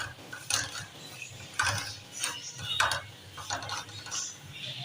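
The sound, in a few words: semolina being stirred and roasted in a pan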